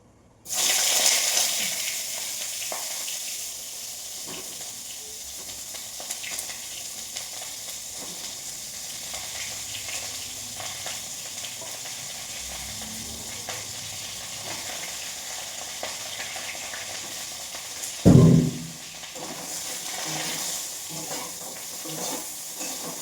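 Cauliflower fries in plenty of oil in a steady, close hiss that runs throughout, with one brief louder clatter midway.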